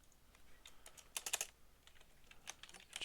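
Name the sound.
typing notes on a computer keyboard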